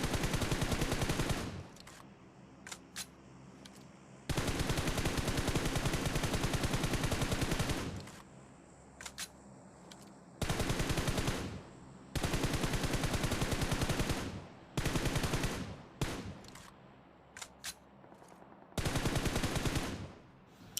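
Bursts of M4 assault rifle fire in the mobile shooter BGMI, loud sustained automatic volleys lasting a few seconds each, separated by short gaps and quick single shots, with no talking.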